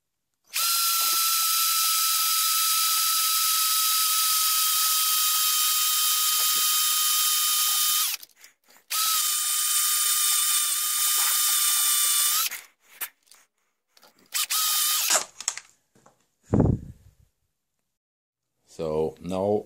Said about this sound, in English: So now drill the thread.